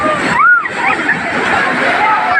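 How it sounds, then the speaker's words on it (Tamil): Sea waves wash and splash at Tiruchendur beach where people are bathing, a steady close roar of surf with a person speaking over it. "இதுதான் திருச்செந்தூர் கடல் அலை."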